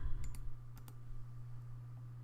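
Keyboard typing and mouse clicking while drafting an isometric drawing in AutoCAD 2018: a few quick, crisp clicks and key taps near the start and again just before the one-second mark, over a steady low hum.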